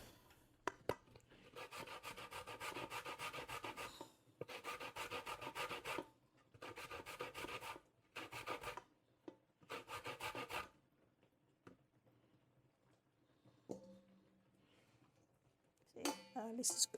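Raw cassava root grated by hand for Jamaican cassava pudding, a rough, rhythmic rasping in repeated bursts of a second or two separated by pauses, close and moderately loud, ending with scattered knocks and handling sounds.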